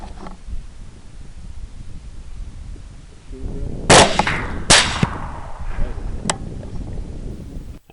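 Two sharp gunshots at a feral hog during a night hunt in a wheat area, loud and close, about a second apart, followed by a fainter third crack and rustling outdoor background noise.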